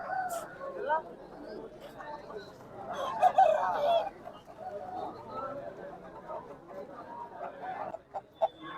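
A rooster crows amid clucking fowl at a country chicken market, the calls rising over a steady backdrop of people talking and haggling.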